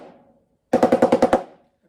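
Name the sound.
drum seven-stroke roll played on snare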